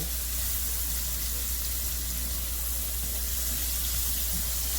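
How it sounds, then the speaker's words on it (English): Steady, even sizzling hiss of vegetables sautéing in a hot pan as a stew base, continuous with no breaks. "Just saute these veg, let the heat get through them"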